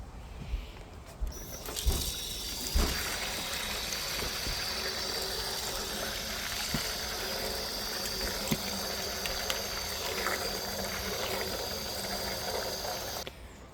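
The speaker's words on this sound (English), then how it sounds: "I'm using cold water and dishwashing liquid to wash up my dishes" Dishes washed by hand in cold water with dishwashing liquid at an off-grid cabin, a soft continuous run and swish of water with faint clinks, no talking.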